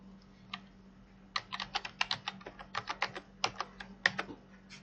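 Numbers being typed on a computer keyboard while entering figures in the Coretax tax app: a short lone key press, then a quick run of about twenty crisp, close clicks in an uneven rhythm over a steady low hum.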